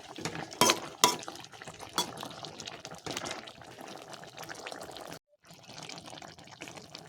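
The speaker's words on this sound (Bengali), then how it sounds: "ভালো করে নাড়াচাড়া করে নেব।" Green jackfruit chilli curry being stirred in a pan with a spoon, soft scraping and wet stirring strokes running steadily with a few louder knocks near the start and a brief break before the stirring resumes.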